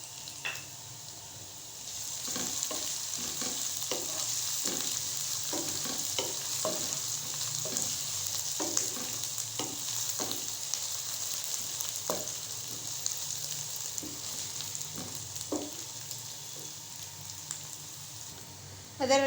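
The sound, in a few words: frying onions, garlic and ginger in a pan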